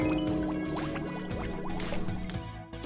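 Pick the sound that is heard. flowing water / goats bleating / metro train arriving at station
flowing water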